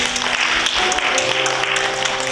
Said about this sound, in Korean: 우리 주님께 영광의 박수 한번 올리기 원합니다.